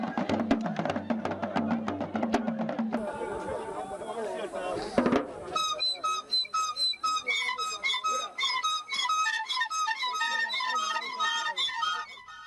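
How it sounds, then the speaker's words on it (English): Male initiates at a Bwa village initiation in Dossi blow shrill whistles in unison: after a stretch of crowd chatter, piercing high notes ring out together in a repeated, pulsing pattern, loud and close. "The male initiates blow strident notes with shrill whistles, in unison as they have learned in the camp."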